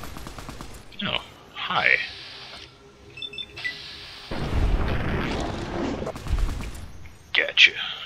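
Gunfire in Fallout 3, several sharp cracks and a dense rattling burst in the middle, mixed with short spoken remarks and game sounds.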